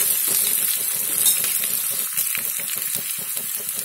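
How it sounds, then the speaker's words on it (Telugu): Onions fry in a pan for gongura pachadi with a steady close sizzle and hiss. A series of light metallic clinks and stirring scrapes sits over the frying in the second half. "చూసారు కదా ఉల్లిపాయలు వేగిపోయినాయి అనమాట"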